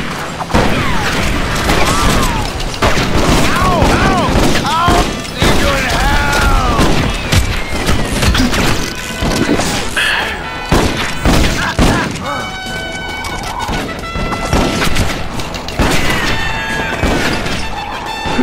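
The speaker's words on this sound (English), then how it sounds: "Who's shooting me?" Gunfire rattles through a Red Dead Revolver shootout on PS2, with repeated sharp shots and mechanical clatter, thuds and impacts in a loud, busy mix for the whole stretch.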